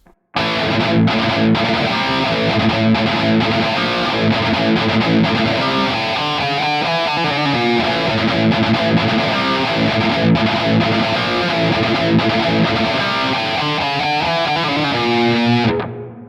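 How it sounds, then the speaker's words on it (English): A heavily distorted electric guitar plays a riff, driving and repeating, loud and continuous for about fifteen seconds before cutting off, with no voices. "So to most people's ears, the riff sounds something like this."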